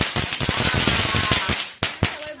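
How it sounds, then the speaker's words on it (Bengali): Firecrackers bursting outdoors during a Mahalaya celebration: a loud, dense crackle of rapid pops for about two seconds, followed by a couple of separate sharp bangs. "এখানে বম ফাটাচ্ছে"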